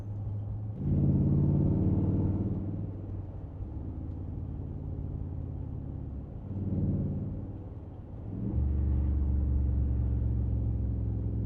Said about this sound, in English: So that's downshifting.